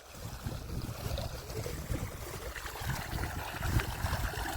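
Irrigation water flows steadily through a farm field, a continuous broadband gush and trickle close to the microphone with no speech over it.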